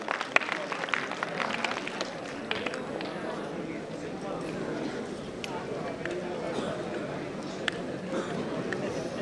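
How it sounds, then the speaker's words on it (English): Audience at a school annual day ceremony applauds prize-winning students, a dense, steady wash of clapping from a sizeable crowd that fills the whole stretch, with voices mixed in. "A big round of applause for them."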